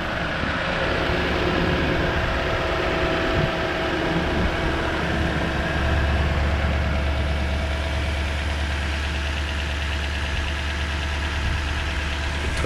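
A 2012 Toyota Tundra's 5.7-litre V8 idles steadily, a constant low rumble with a faint ticking texture running unbroken throughout at close range.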